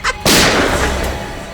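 A sharp, loud gunshot blast with a brief pop just before it, followed by a long rumbling echo that slowly fades.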